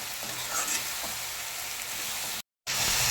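Tomatoes sauté with salt in a pan for mutton uppu kari, making a dense, continuous close sizzle with faint stirring scrapes, cut by a brief dropout near the end.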